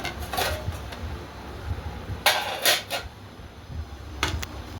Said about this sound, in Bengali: এই দেখো থালাগুলো ধুয়ে নিচ্ছি ভাত বাড়ার আগে।